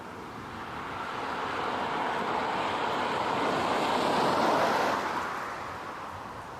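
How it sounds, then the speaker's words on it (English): A loud motorbike approaches and passes at a roadside near an airfield, its broad engine roar swelling steadily to a peak and then fading, with wind noise over the microphone and no talking. "There's also a loud motorbike coming."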